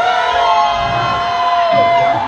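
A live crowd at a Deadline metal show at Facemelt Fest 2017 at Rumours cheers and whoops loudly in a dense, continuous roar, with a sustained tonal ring over it.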